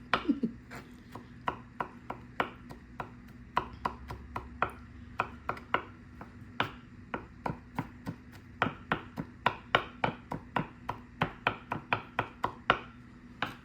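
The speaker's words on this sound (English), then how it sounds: "Alright, so I'm chopping it very small, and that will be enough garlic for the whole thing" A knife chops garlic very small on a board in quick, evenly spaced taps, about two dozen crisp strikes close to the microphone with no talk.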